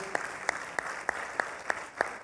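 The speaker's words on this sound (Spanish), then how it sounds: "Fuerte aplauso a Jesús, Rey de Reyes, Señor de Señores." A church congregation claps together in steady rhythmic unison, about seven sharp, evenly spaced claps over a low room murmur.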